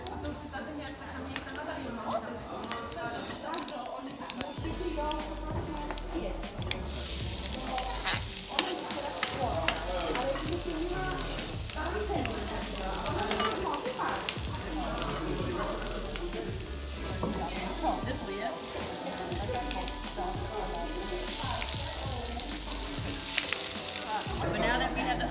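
Chopped large onion frying in a pan, a steady broadband sizzle with occasional stirring scrapes running throughout, close and fairly loud.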